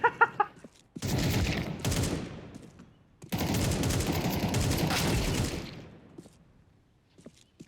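Automatic gunfire in Counter-Strike 2, a few sharp shots followed by two long sustained bursts of rapid fire, loud and close, then fading to quiet.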